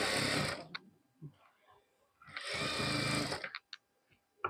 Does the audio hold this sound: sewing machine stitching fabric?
yes